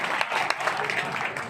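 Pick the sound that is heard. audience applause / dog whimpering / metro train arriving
audience applause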